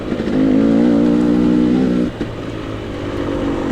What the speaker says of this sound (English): But I hear the revs behind me